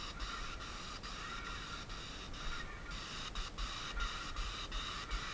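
A flat-tip sprayer hisses continuously while spray painting, a steady close airy spray with brief interruptions from quick ticking clicks, with no talking over it.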